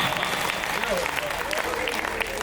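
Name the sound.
audience applause at a comedy poetry show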